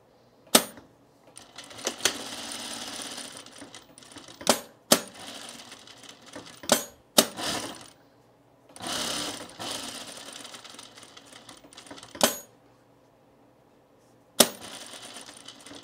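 A home sewing machine stitches a men's shirt in bursts of rapid whirring with a low bobbin, separated by pauses and sharp mechanical clicks and clunks, close and quiet, with no speech.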